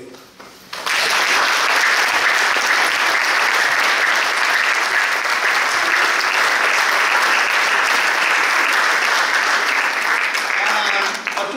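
A loud, sustained round of audience applause at a commemorative calendar event breaks out abruptly after a quiet start and continues strongly and evenly almost to the end.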